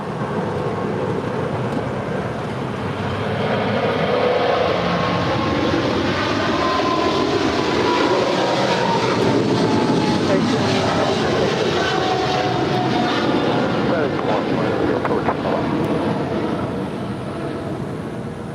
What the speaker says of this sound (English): we do have a United 777-200 heading to Honolulu, getting ready for departure on 25 right